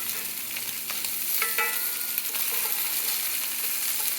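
Shrimp frying in a pan sizzle steadily up close while they are turned over, with metallic scrapes and a few clinks of the utensil against the pan midway through.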